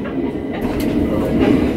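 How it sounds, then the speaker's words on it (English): A moving passenger train rumbles loudly from inside the carriage, a steady heavy roar with faint clicks of the wheels on the rails, continuous and close. "We're on the train to where?"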